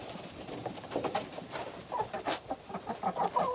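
Chickens cluck and murmur while pecking at a treat of spent brewing grain left over from making beer wort, a busy run of short, close clucks with soft rustling around them.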